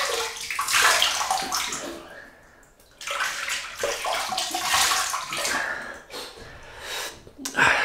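Running water at a sink as the face is splashed and wetted for a shave with a double-edged razor: continuous gushing and splashing, loud and close, broken by a short lull, with bursts of breathy exhaling.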